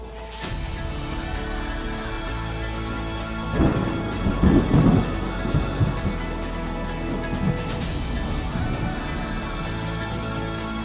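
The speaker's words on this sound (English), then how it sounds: "Big storm coming in." Heavy thunderstorm on an African safari: steady rain hiss throughout, with a deep rolling thunder rumble swelling in the middle before fading back under the downpour, no talking.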